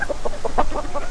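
Standard Ancona chickens give a quick run of short, close clucks in an uneven rhythm, a brief burst with no voices.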